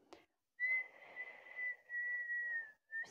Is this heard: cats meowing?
no